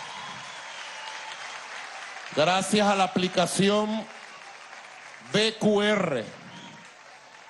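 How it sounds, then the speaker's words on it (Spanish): A crowd at a political rally for International Women's Day claps steadily in the background while someone speaks over a loudspeaker in two short bursts of talk. "Quiero un aplauso al movimiento Somos Venezuela."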